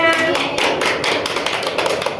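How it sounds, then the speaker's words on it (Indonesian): Schoolchildren in a classroom clap for a classmate after a maths answer, a dense, loud flurry of quick hand claps, close and continuous, with some voices mixed in at the start. "Tepuk tangan untuk Anya."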